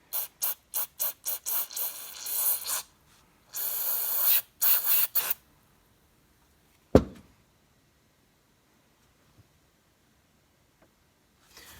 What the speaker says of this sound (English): And you just kind of want to give those nice little pressurized squirt of clean.